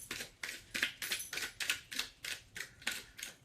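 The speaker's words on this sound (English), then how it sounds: "And I don't know why I'm shuffling." Tarot cards are shuffled in a quick, steady rhythm of crisp papery bursts, about two or three each second, close up with no talking.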